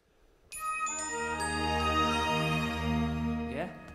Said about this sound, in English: This is the Windows startup music.